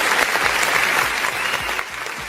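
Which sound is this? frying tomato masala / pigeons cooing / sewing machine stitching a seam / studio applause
studio applause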